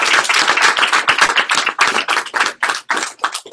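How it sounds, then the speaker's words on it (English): A live audience claps together at an event, a dense, even run of hand claps for several seconds with no talking over it. "Give me one more round of applause."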